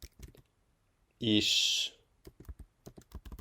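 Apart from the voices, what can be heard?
typing a sentence on a computer keyboard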